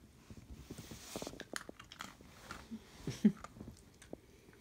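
A puppy quietly chews a Milk-Bone dog treat close by, with irregular crunching and biting, a few sharper crunches and soft mouth sounds; no talking.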